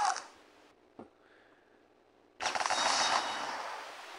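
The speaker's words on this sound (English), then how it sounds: "Now let's use the meteor salvo." Meteor salvo weapon attack in a worm video game: a sudden loud, dense roaring burst of crackling impacts and rumble that starts after a quiet stretch with a small click and swells, sustaining to the end.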